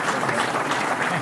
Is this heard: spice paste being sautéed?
no